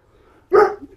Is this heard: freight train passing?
no